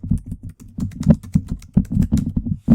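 Rapid, irregular keystrokes on a computer keyboard during data entry in Microsoft Office 2016, loud and close, with short pauses between bursts and no talking.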